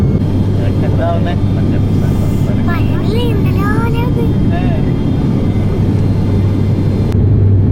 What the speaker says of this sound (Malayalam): നമ്മുടെ ഫ്ലൈറ്റ് ഇവിടെ എത്തി